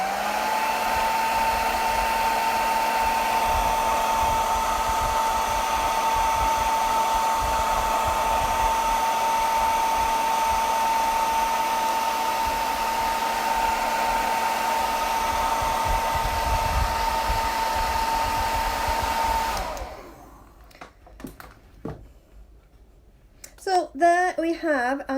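A hair dryer blows steadily and loudly on a craft piece for about twenty seconds, then switches off, leaving quiet room sounds and brief talk at the end.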